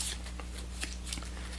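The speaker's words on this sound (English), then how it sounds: "What I'm now going to do is shuffle the crime and the weapon cards to the best of my ability" Board game cards for crime and weapon are shuffled by hand, soft quick riffling ticks and slides over a steady low hum, faint and close.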